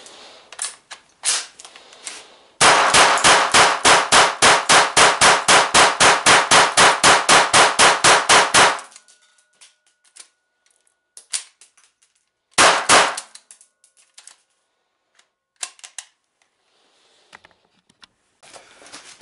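GSG MP 40 9mm PAK blank gun firing a magazine: a few scattered shots, then a loud rapid burst of about thirty sharp cracks, followed by quieter clicks and clatter and a couple of isolated bangs.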